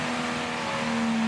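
An HQ Holden race car in a 2020 Combined Sedans race at The Bend accelerating on the circuit, a loud steady engine tone rising slightly as the throttle opens.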